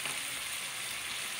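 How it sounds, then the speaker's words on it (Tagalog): Steady, dense sizzling of chicken frying in a hot pan for chicken afritada, a continuous crackling hiss with no talking. "yung ating manok, piniprito-prito natin ng konti para iwas panis"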